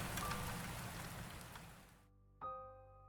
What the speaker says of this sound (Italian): Fuori piove a dirotto.